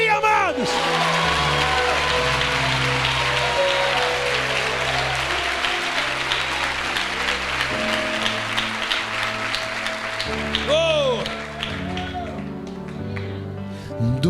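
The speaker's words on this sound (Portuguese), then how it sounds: "Aplauda o nome de Jesus aí" A church congregation claps steadily through a Wednesday evening worship service, a dense wash of applause over sustained keyboard music and voices.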